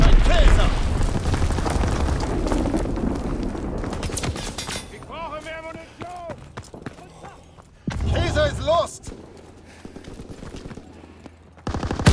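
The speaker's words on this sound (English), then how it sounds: "Enemy bomb incoming." Heavy rumbling blasts and gunfire in Call of Duty DMZ, a roaring explosion at the start fading out, then another loud burst around eight seconds, under game radio voice callouts.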